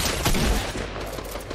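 Dense, rapid gunfire from a shooter video game, a sustained barrage of overlapping shots that stays loud and close throughout, with no talking.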